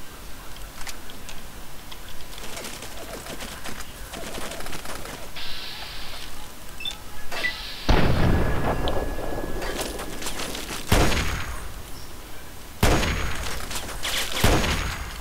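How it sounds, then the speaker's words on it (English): Loud sniper rifle shots in Fallout 3 gameplay, several sharp cracks with ringing tails spaced a few seconds apart over quieter game ambience. "Can't bust out my sniper rifle again?"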